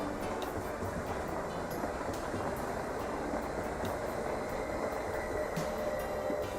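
A Veolia Meridian semi-fast train runs steadily with a constant broadband rumble and faint rhythmic clicks, at a moderate level and with no voices.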